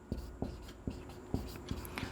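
Marker or chalk strokes on a classroom board during a Hindi grammar lesson, several short scratchy taps and scrapes at an irregular pace, close and fairly quiet.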